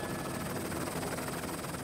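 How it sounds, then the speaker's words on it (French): Helicopter flying low over historic Champagne vineyards at the foot of the Montagne de Reims, a steady whirring rotor and engine drone holding at an even level throughout. "Au pied de la montagne de Reims, l'hélicoptère survole les premiers vignobles historiques."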